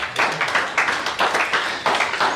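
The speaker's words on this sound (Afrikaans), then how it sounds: "Julle klap hande asof jou kind derde gekom het in 100 meter" A small audience claps hands in a church gathering, a light, uneven patter of claps in short rhythmic bursts at moderate loudness.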